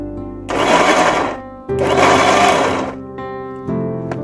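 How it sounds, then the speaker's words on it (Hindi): A kitchen mixer grinder blends hot masala into a puree, running in loud whirring bursts with short pauses between them, close and alone. "थोड़ा सा आपको बहुत ही केयर के साथ मिक्सी चलानी होगी और एक हाथ आपको ढक्कन पे रखना होगा।"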